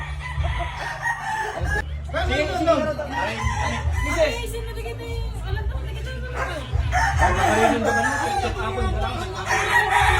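A rooster crows several times in succession, loud and close, with hens clucking and people chatting in the background.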